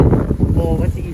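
Outdoor wind buffeting a microphone, a steady low roar and rumble under someone talking throughout.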